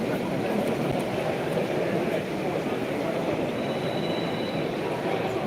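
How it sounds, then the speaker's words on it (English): A model mine train runs along a garden railway layout at an indoor exhibition, a steady close rumble of small wheels on track with faint squeals over a busy hall background. "Mine train going on through."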